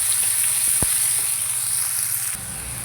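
Curry leaves, dried red chillies, onion and capsicum frying in a pan for a Telugu-style egg poha, giving a steady close sizzle throughout with one brief sharp crackle.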